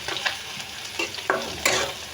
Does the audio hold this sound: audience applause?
no